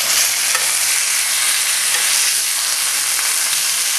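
Egg frying in butter on a low-heat griddle for a chivito sandwich, a steady, dense sizzle that holds evenly and fairly loud throughout with no voices.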